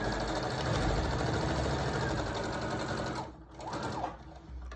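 A sewing machine stitches elastic onto a fabric face mask, its steady whirring motor running close and loud for about three seconds before stopping, followed by faint handling noise.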